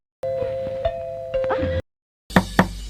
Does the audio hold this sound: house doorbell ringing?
yes